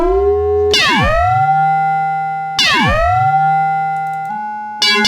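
A Zeroscillator module in a modular synth is driven by linear FM from an uneven square wave, giving bright, distorted tones that swoop downward and settle twice in a row, with a third sweep starting at the very end.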